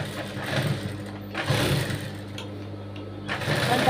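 A sewing machine stitches smooth, slippery blouse fabric in short whirring bursts with brief pauses between runs, close and clear.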